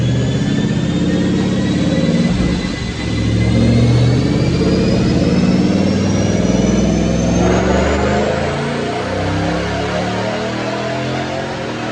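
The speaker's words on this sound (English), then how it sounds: "Let's check out these dyno pulls." A supercharged 2012 Ford Mustang Boss 302 with a Roush package, cooling fan and 93 octane fuel roars on a dyno, engine note climbing steadily in pitch as it revs hard for about twelve seconds, loud and continuous.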